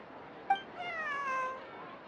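A cat meows in the video game Genshin Impact, a short chirp followed by one drawn-out, wavering meow, clear and close against a quiet background.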